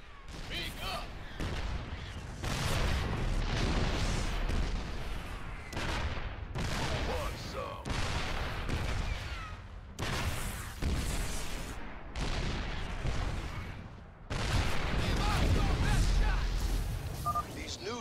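Siege Tank artillery in StarCraft 2 pounds away in repeated heavy blasts, loud and close, in bursts with short pauses, under speech.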